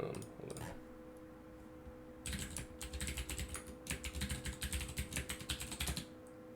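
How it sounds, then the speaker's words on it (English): Credentials are typed on a computer keyboard in quick, close bursts of clicking keystrokes, with a pause early and a dense run of taps over a faint steady hum. "type in your credentials that you specified"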